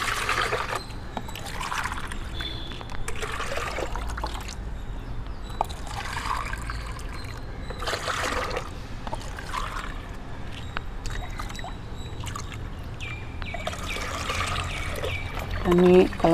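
Water trickles and splashes steadily as it is poured and stirred into rice-starch water for diluting, with pouring and stirring sounds continuing throughout, fairly close.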